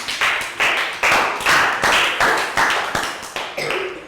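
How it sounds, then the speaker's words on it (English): A small group of children in a Year 3 classroom claps for a student in a rhythmic, evenly spaced pattern, about nine sharp bursts in quick succession, close and fairly loud. "Big round of applause for Nadia."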